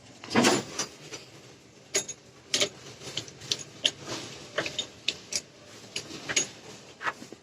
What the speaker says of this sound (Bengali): এখন দেখবেন আমাদের এটা ইজিলি গিয়ার পড়ছে।